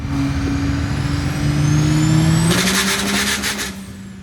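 A high-horsepower diesel truck engine roars loud and close while revving up. A rapid burst of popping from the wastegate then fires in a machine-gun-like string before the engine note settles.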